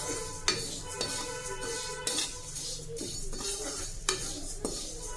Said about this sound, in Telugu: నూనె వేసి వేయిస్తున్నానండి